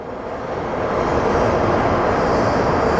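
A Delta jet airliner at Sky Harbor, flight 383 bound for JFK, gives a loud steady jet roar that swells slightly and holds.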